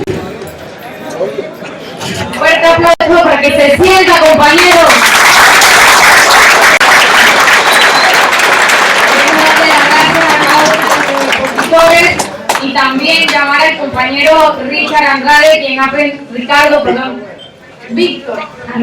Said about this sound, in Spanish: Fuerte aplauso para que se sienta, compañeros.